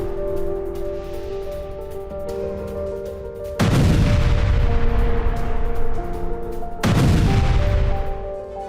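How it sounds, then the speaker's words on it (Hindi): Russian artillery fires in Donetsk, with two heavy booms that roll out into long rumbling decays over a steady low background, no talk. "डोनेस्क में रूस की आर्टिलरी ने एक्शन दिखाया है।"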